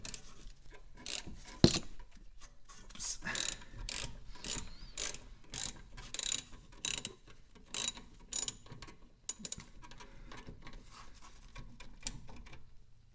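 A socket wrench ratchets a brake caliper slide pin bolt on a Nissan Leaf, close up. It clicks in rapid bursts of ratcheting strokes separated by short pauses, with a sharp knock early on.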